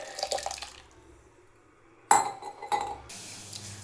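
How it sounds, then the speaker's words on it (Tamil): Horse gram cooking water poured from a vessel into a pot of rasam, with short splashing bursts and light clinks of metal cookware, fairly close. "சாதா தண்ணிக்கு பதிலாக கொள்ளு தண்ணி ஊற்றுறேன் ரசத்துக்கு."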